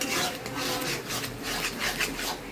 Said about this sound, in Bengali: তো আমি একটু জল দিয়ে এটাকে ভালো করে মশলাগুলো খাচিয়ে নিচ্ছি।